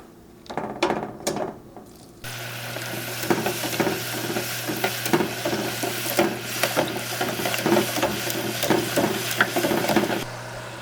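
Potato chips deep frying in hot oil for double-cooked chips: after a few clinks, a loud, dense, continuous bubbling sizzle starts and holds close up, with no speech.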